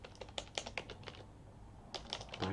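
Keys on a computer keyboard clack in a quick run while a terminal command is typed on an Arch Linux system. There is a short pause and then a few more close, faint taps, with no talk.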